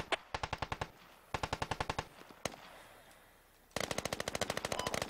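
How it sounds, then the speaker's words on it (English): Bursts of rapid automatic machine gun fire in a military shooter game, several distinct volleys with a single loud shot between them and a final sustained burst, moderately distant. "Got gunfire to our northeast."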